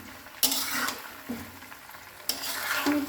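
Mango pieces frying in mustard oil, with three bursts of close scraping and stirring over a hissing sizzle, each fading between strokes.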